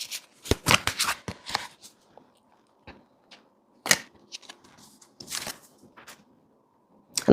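A deck of cards being shuffled in several quick riffling bursts with pauses between, close and clear, with no talking.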